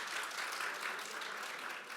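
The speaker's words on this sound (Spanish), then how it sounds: "Un aplauso para ella, seguro." Brief, fairly faint audience applause at a banking risk panel event, an even patter of many hands lasting about two seconds and easing off at the end.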